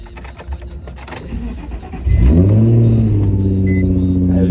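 A Nissan Z, just repaired with replacement ignition coils, cranks with a few clicks and a brief whir, then catches and settles into a loud, steady idle close by.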